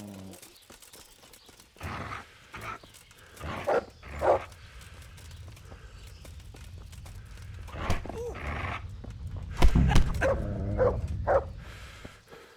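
A dog barking in the video game Kingdom Come: Deliverance, a few loud, separate barks spaced out among hoof clops and background ambience, with voices speaking between them.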